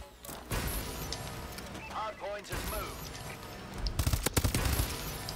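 Automatic gunfire from a Call of Duty Advanced Warfare ranked match comes in rapid bursts, with a closer sharp volley of shots near the end, mixed with game effects and a player talking over it.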